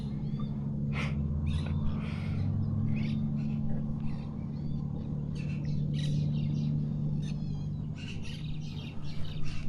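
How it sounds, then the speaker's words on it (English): Morning birdsong over a lagoon in Bacalar, Mexico: many chirps and short calls scattered across the scene at moderate distance, above a steady low rumbling hum. "I'm really just enjoying the bird songs this morning."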